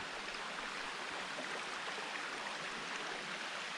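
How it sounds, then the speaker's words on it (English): A small stream spills over a little waterfall beside a wilderness campsite, a steady, dense rush of water close to the listener with no voices. "So this is the little stream by our campsite. Little waterfall right there."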